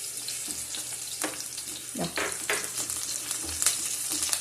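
Green chillies and chopped garlic frying in a pan with oil while being stirred, giving a steady close sizzle with scraping stirring strokes and a few louder bursts.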